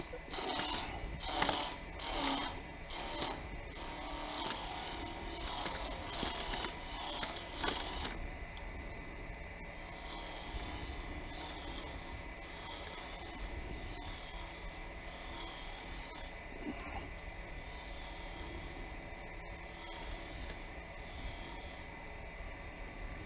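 A skew chisel roughs out a select maple blank with a bit of ambrosia staining, spinning on a wood lathe at 2,300 RPM, giving a steady loud rasping, chattering drone that begins with rhythmic bursts and then settles into continuous cutting.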